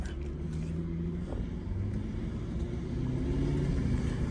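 A 1992 Lexus SC400 V8 coupe cruising in drive, its low engine drone and road rumble steady and close, swelling slightly toward the end, with no talk.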